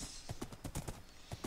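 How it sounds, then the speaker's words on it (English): Horse hooves clip-clop in Minecraft, a quick irregular run of close, moderately loud hoof steps with no talk over them. "I'm taming a horse right now."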